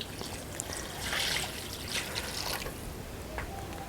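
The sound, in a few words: water being poured into pot for dal keema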